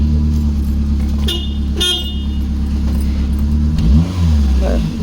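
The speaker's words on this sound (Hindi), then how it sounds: "तो ये भैया जा रहे हैं, अमन भैया गाड़ी लेके।" A car pulls away under engine power, its horn tooting a couple of short blasts as the motor revs and fades, fairly close and loud.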